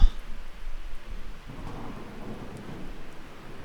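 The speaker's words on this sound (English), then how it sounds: "So this is like a heavy rain pattern." Heavy rain pours steadily in the Miscreated video game's weather system, with a loud thunder crack at the start and a low, rolling rumble beneath the dense downpour.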